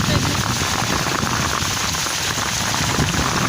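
Heavy rain pours steadily in Pampanga as a storm darkens the sky, a loud, dense, unbroken hiss close by, with no voices clearly audible above it.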